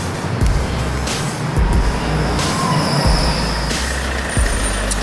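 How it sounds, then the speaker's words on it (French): Tram ride in a city, steady low rumble of the rolling car with occasional clunks, faint wheel squeal and brief high whines, a continuous near ride noise with no talking. "Là je vais prendre le tram, ensuite le métro"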